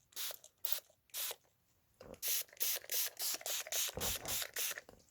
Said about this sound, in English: and give that a little spray